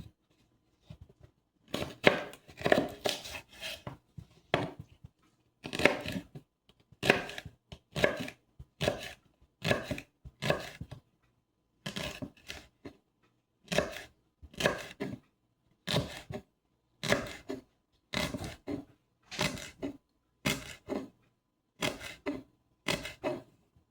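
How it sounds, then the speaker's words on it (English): Celery is chopped on a cutting board with a knife, heard as a close series of crisp, evenly spaced chops in short bursts separated by brief pauses, with no talking. "start chopping up this celery"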